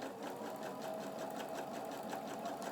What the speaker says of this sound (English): you move them over here to your sewing machine, and you're going to sew a 1/4 inch seam